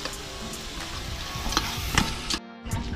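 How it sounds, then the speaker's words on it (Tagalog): Tomatoes and onions sauté in a hot pan while pork cooks, giving a steady close sizzle with scraping stir strokes and a brief dip in the sound near the end. "Ayan, nabigisa na ng kamatis saka sibuyas."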